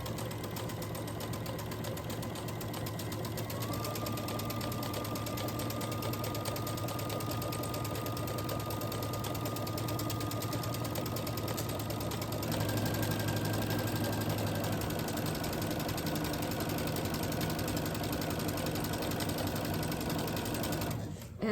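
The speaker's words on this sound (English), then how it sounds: "stitch a 1/4 inch on that side of the line" Sewing machine stitching a quarter-inch seam on quilt block pieces, a continuous fast mechanical whir, close and steady, with its pitch stepping up in two stages as the stitching speeds up.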